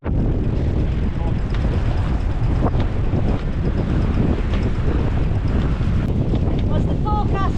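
Strong, steady 25-knot wind buffets the microphone on a sailboat heading upwind off the Scottish coast, a loud continuous roar with water rushing beneath and brief voices mixed in.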